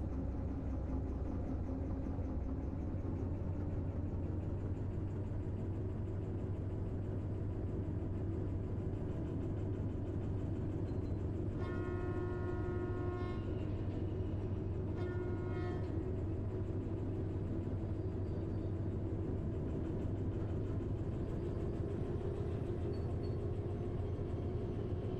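A diesel locomotive hauls a heavy train in the Derail Valley simulation game, its engine a steady, deep droning rumble throughout, with short bursts of a horn-like tone near the middle and no speech.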